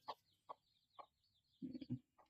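Backyard chickens clucking softly at a distance, a few spaced single clucks followed by a short burst of quicker clucking, faint and quiet.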